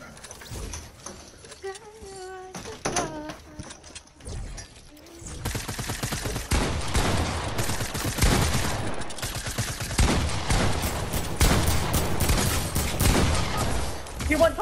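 Rapid bursts of video game gunfire crackle loudly and continuously for most of the stretch, following a quieter opening, with players talking over the shooting.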